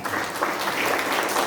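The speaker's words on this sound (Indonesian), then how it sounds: "Tepuk tangan bagi dia." A church congregation breaks into brief, steady applause during a service, a moderately loud wash of clapping hands with no break.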